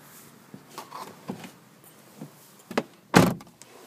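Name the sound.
car door opening to get into a 2002 Toyota Camry LE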